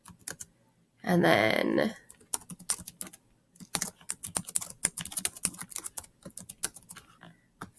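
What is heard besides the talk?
typing on a computer keyboard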